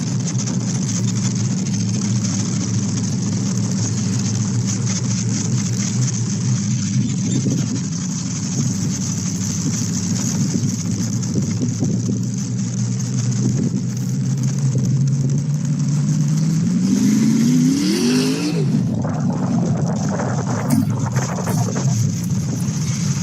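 A car engine drones steadily on a drive past a cornfield, then climbs in pitch as it accelerates in gear before a sharp drop at a shift, with wind rushing throughout.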